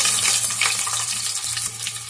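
Garlic cloves, dried red chillies, curry leaves and onions fry in hot oil for a radish sambar, giving a loud, steady, crackling sizzle with no voices.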